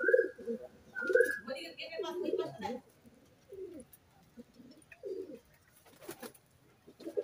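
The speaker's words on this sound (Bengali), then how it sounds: "আরো ভেতরে রয়েছে এই কটা পায়রা না আমার" Several pet pigeons coo in soft, throaty bursts close by, with human voices audible under and between the calls.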